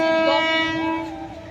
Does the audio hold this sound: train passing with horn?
yes